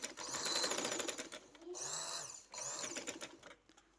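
Stitching cloth along a chalk-marked slit design with joined lace, a sewing machine whirs in a steady run, dips briefly, then resumes, fairly quiet and close.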